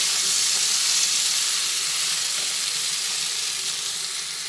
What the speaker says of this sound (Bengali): তিন চার মিনিট ধরে একটু কষিয়ে নেব।